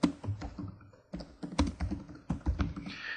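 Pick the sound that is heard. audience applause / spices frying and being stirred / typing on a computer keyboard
typing on a computer keyboard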